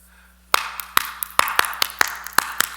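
A handful of sharp hand claps ring out in a loose, uneven rhythm, close and crisp over a faint low hum.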